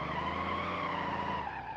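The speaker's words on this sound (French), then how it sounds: "Alors là, vous voyez littéralement le camion gronder." Truck engine in the BeamNG Drive video game, a continuous dense rumbling drone with a held tonal whine, steady and loud throughout the short moment.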